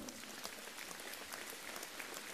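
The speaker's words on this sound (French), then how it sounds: "On peut applaudir Aurore Kishnin." Steady applause from an audience at a New Year's civic ceremony in La Grande Motte, even and continuous clapping throughout, heard at moderate distance.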